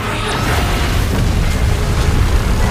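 A loud, sustained roaring blast from a beam attack in a Titans video game fills the whole moment with dense, rumbling explosive noise that holds steady without letup.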